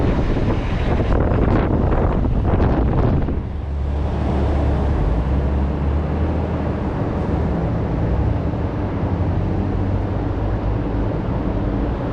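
Strong wind roars and buffets the microphone continuously on a street in New York City's Financial District, a loud low rumble with a few sharper gusts early on.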